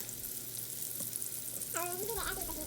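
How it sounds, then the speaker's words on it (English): Meatballs sizzle steadily in a frying pan while being turned, with a brief scrape near the start and a voice speaking over the last second of the frying. "cooking the meatballs, we're going to turn them and make sure they're brown on all sides"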